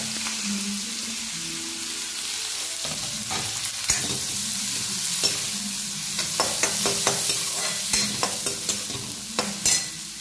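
Onion with cumin and salt fries in a pan with a strong continuous sizzle, overlaid by frequent, rhythmic spatula scrapes and clinks that grow busier toward the end, with no voices.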